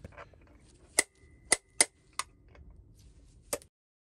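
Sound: tapping the centre out of a diesel heater motor

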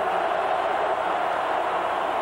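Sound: football stadium crowd noise

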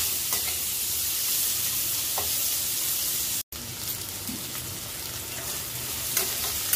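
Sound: onions frying in a pan

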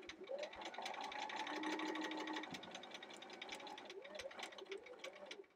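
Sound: sewing machine stitching a quilt block on the line

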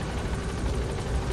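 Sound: helicopter landing in video game Metal Gear Solid V

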